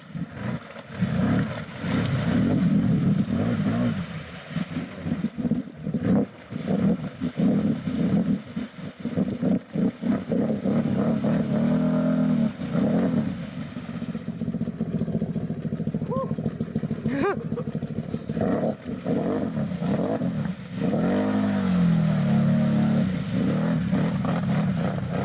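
UTVs fitted with 34-inch SuperATV Assassinator mud tires churn through mud with engines revving in surges and tires splashing. Wind buffets the microphone, and people talk over the machines throughout.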